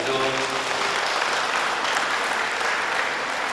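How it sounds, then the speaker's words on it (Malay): Audience applause at a farewell ceremony for a retiring director, Cik Zul, a steady, moderately loud wash of clapping from a hall, with a brief voice at the start. "Kita berikan tepukan pada Cik Zul."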